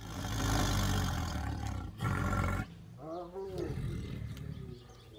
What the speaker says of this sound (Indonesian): Wahai, yang ini harimau.